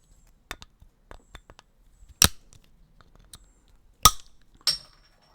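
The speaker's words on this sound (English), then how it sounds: "That is the sound of me opening a new Belgium honey orange triple." A bottle of Belgian-style honey orange triple ale being opened, with scattered small clinks and clicks of cap and glass followed by a few sharper metallic snaps, close by in an otherwise quiet room.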